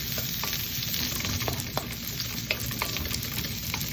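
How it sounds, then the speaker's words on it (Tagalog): Onions sautéing in hot oil in a pan for a sardine dish: dense, loud, continuous sizzle with scattered crackles and brief scraping stirs, no speech. "Magigisa na tayo ng sibuyas. Yan, sibuyas po ang aking inuuna. At ako ay nagigisa."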